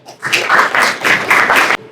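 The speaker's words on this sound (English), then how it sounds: "please give Carlos a round of applause" Audience applause at a business planning talk, a burst of many hands clapping that swells loud and steady for about a second and a half, then cuts off sharply.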